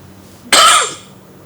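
A single sharp cough bursts out close by in a quiet meeting room, loud and brief with a short raspy tail, alone without talk.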